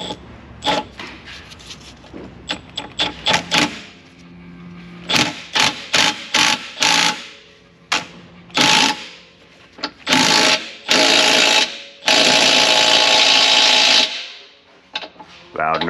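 An impact wrench runs a nut down on an aftermarket bushing press fitted to the rear differential of an Infiniti G37. It fires in repeated loud, close rattling bursts of varying length, the last one longest.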